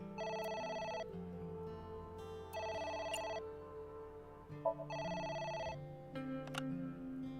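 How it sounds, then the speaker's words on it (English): Telephone ringing in the video game AI: The Somnium Files, three loud electronic ring bursts with pauses between, over a low in-game music bed, with no talking. "It's the phone. Maybe try picking it up?"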